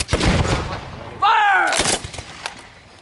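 Reenactors storming Fort Niagara fire a musket volley, a sharp burst of overlapping shots at the start that quickly fades, followed by a shouted command and a brief trailing report.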